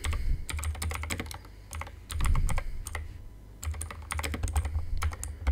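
Fingers type quickly on a computer keyboard while HTML is being written, close and clear bursts of rapid key clicks broken by brief pauses, with no talk over them.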